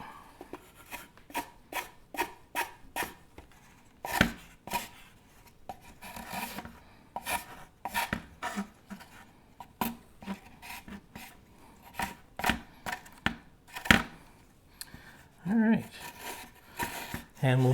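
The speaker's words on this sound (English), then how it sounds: "And we'll finish it up with the sanding block." Repeated rasping strokes of a sanding block on a plastic scale model aircraft, in short bursts with brief pauses, close up.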